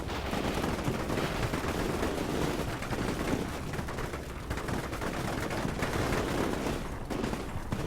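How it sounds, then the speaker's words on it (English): Dense, continuous gunfire fills the Shock Force 2 battlefield as units concentrate fire on a building, with rapid overlapping shots and bursts sustained at loud level throughout. "Everybody's focusing fire on that building"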